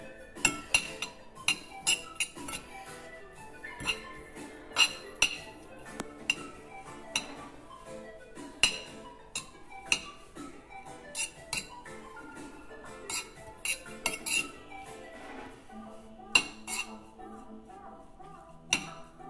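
Spoon stirring pollock tartare with white asparagus and chili in a bowl, repeated close clinks and scrapes of metal on glass or ceramic at an uneven rhythm, with quiet kitchen background.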